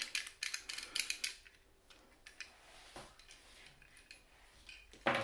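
A Torx 6 screwdriver works against small pins inside a CYMA CM.009C M16 airsoft gun, giving faint metallic clicks, scrapes and taps in quick irregular bursts, close and quiet.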